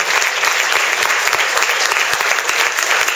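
Audience applause at an award ceremony, dense, loud and steady throughout, with many hands clapping close together and no speech above it.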